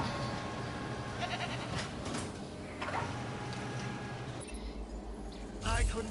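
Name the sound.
goat bleating in Jurassic World Evolution video game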